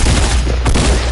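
Dense, continuous gunfire rattles through a frantic video game firefight, loud and sustained across the whole moment with heavy low booms underneath.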